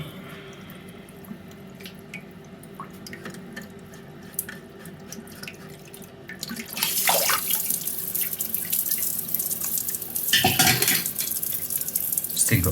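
Water running inside a toilet cistern, a faint trickle with small clinks and handling noises, then a louder steady rush of flowing water in the second half, near and continuous.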